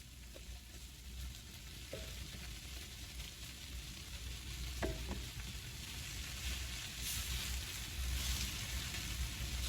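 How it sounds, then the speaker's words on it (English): Brown rice being stirred into cooked vegetables in a pan for jollof rice, a faint continuous sizzle with a few soft utensil knocks, quiet and even throughout. "So we're gonna mix the brown rice into our vegetables."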